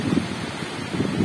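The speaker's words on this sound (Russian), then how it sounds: "Из-за этого ветра такая холодища" Strong outdoor wind buffeting a microphone in cold weather, a steady roaring rush with low gusting swells, loud and continuous with no voices.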